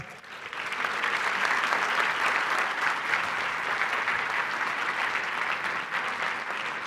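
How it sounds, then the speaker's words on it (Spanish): Sustained, loud applause from a conference audience welcoming a Latin American GoDaddy vice president to the stage, steady and dense clapping throughout with no speech over it. "Démosle un fuerte aplauso, por favor."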